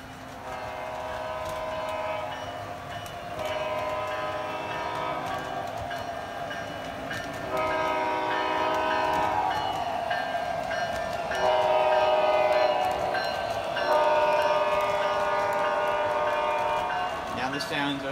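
MTH DCS model train sound effects, a rumbling locomotive with horn-like tones and rail clatter, play at moderate level and slowly fade as a voice talks over them throughout.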